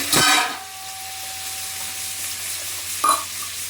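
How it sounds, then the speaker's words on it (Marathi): Garlic and cumin seeds sautéing in a home-kitchen pan on the gas, a steady sizzle with a loud burst at the start and a brief scrape near the end, no talking. "त्यावर थोडंसं 1 चमचाभर जिरं जरासं परतून घ्यायचं आहे"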